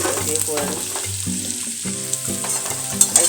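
Black cumin seeds and dried chillies crackle and sizzle in hot oil for a vegetarian dish, a close, busy frying hiss with stirring scrapes and a few sharp pops near the end, without speech.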